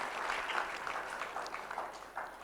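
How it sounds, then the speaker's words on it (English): Audience applause at an advertising policy forum in Nepal, a steady wash of many hands clapping at moderate level throughout, continuous and without any voices on top. "Let's have a round of applause for him as well."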